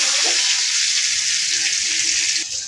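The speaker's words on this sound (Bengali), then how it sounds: "আলুটি লাল লাল করে ভাজে নিতেছে," Potato pieces frying in hot oil in a home kitchen, giving a loud, constant hiss and sizzle with a faint stir near the start. The sizzle drops slightly at the end.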